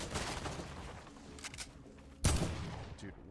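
Gunshots from the video game Fortnite crackle faintly in a quick burst, then a single louder blast lands near the end.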